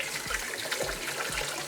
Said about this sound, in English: We then strain it and run it over cold water for a tiny bit.